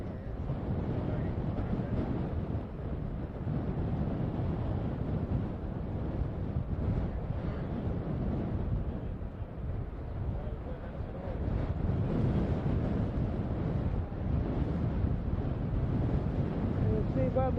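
Gusty wind buffets an outdoor microphone at an airfield by a windsock, a steady low roar with surging gusts running throughout, loud and close with no other clear sounds above it.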